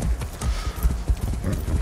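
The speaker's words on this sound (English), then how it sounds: "There, we have a horse." Hooves of a horse in the video game Far Cry 6 clop in a steady rhythm of heavy low thuds, close and distinct, about every half second.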